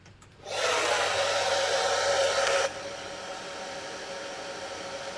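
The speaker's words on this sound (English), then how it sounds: "I'm going to blow dry it for a sec." A hair dryer blows on a craft foam piece, switching on with a loud, steady whoosh for about two seconds, then dropping to a quieter hum.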